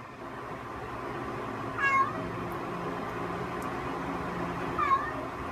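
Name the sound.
cat meowing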